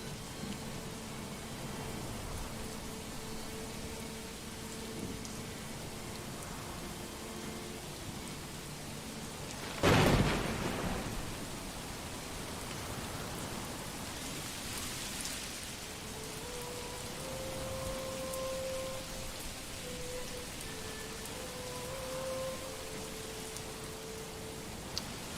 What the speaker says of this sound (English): the rain is incredibly well done here